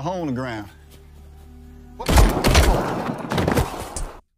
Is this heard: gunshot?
yes